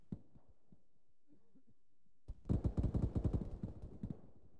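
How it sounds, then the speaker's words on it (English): A heartbeat thumps during CPR in a video game, starting faint and evenly paced, then swelling into a louder, denser run of pounding beats. "Yep, heartbeat, let's start CPR"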